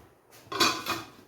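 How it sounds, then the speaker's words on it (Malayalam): A metal lid set onto a cooking pot of drumstick avial gives a quiet clank and a brief rattle as it settles, heard alone in a kitchen. "ഇനി ഒന്ന് മൂടി വെച്ച് വേവിക്കാം."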